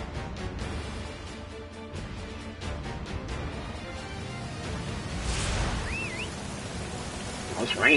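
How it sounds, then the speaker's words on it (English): Steady rain falls across a Dynasty Warriors 9 battlefield, a continuous broadband wash with a brief louder swell near the end, mixed under game noise and some talk. "Oh, it's raining up here."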